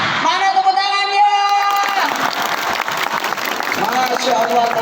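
Audience applause during a lecture at an Islamic boarding school in Indonesia, steady clapping from a crowd that rises and stays strong, with a sung or drawn-out voice over it at the start.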